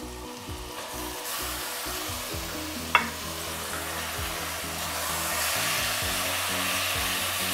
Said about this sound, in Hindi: कीमे को अच्छी तरह भून लेना है।